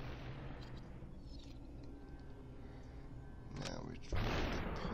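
A single loud gunshot headshot in the SUPERHOT video game cracks out near the end, breaking through a steady bed of game noise and ambience.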